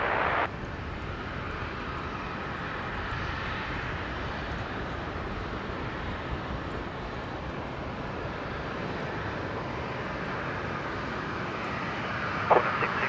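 A military transport aircraft lands at Brisbane airport, producing a broad, steady engine roar that stays loud and unbroken throughout, with no voices over it.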